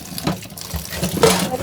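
Running tap water splashes while something is being rinsed in a home kitchen, with short bursts of gushing and spattering close by and no talking.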